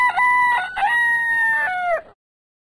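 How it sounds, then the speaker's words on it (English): Rooster crowing a single loud, close cock-a-doodle-doo lasting about two seconds, its pitch stepping up then sliding down at the end, over faint background hiss, followed by silence. "Rooster."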